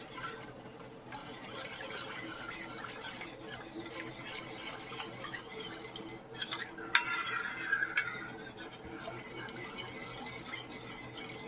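Seasoning mix being stirred into a beef roast in a pot, soft repeated scraping and swishing of a utensil against the pot, faint and steady, with a brief clink partway through.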